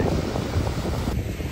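Strong wind at Lake Kenyir roars and buffets the microphone in a dense, continuous rush with no speech over it.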